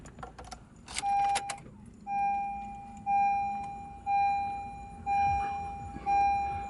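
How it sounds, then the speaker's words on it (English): Car keys jangle briefly as they are pulled out inside a 2013 Honda Civic, followed by a steady series of evenly spaced electronic chimes, each a clear sustained tone repeating about once a second. "let me get my keys out here"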